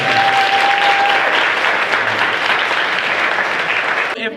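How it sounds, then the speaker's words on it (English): Loud, sustained applause from an audience at a live show, a thick continuous clatter of clapping that holds steady throughout, with a brief tonal hum near the start. "I want to give them a round of applause."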